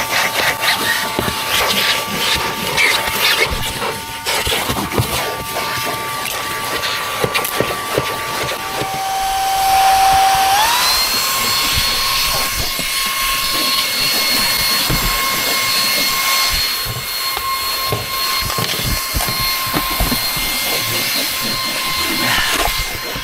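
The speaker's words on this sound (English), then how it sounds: "So this is the Green Note cordless vacuum that we're currently using at home, and obviously because it's cordless you can use it in the car as well" A Green Note cordless vacuum runs steadily while cleaning inside a car, giving a loud, continuous whine and airflow hiss. Its pitch rises partway through as the motor changes speed, with bumps and rustles from the nozzle moving around.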